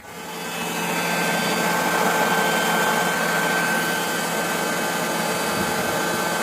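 Air blower on a gas block masonry site switched on to blow off dust, a loud steady rushing roar that ramps up quickly and holds constant throughout.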